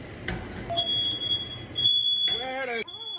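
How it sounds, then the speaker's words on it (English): A household smoke alarm shrills in sustained high-pitched tones while a person talks over it nearby. "Don't know why I keep setting the damn smoke alarm off."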